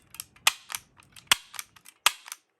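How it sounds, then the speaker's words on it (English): Tokyo Marui M59 airsoft gas blowback pistol dry firing, several sharp, loud mechanical clicks and snaps close up, spaced irregularly with small rattles between them. "This is what the gun sounds like when you dry fire it."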